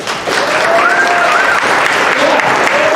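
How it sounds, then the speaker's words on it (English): Audience at the Inn of the Mountain Gods bursts into loud, sustained applause for the wait staff and bartenders, a dense wash of clapping with a few voices rising briefly above it. "I want a round of applause for your wait staff and your bartenders."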